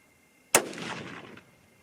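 A single sharp rifle shot from a .243 Winchester loaded with Ramshot Grand powder cracks out, followed by a brief rolling echo that fades within a second.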